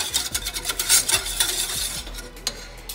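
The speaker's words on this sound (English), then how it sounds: "Now we're going to go ahead and give it a whisk." A whisk beats a sauce mixture in a bowl for a Chinese shrimp stir-fry, a fast run of clinking, scraping strokes up close, with no talk.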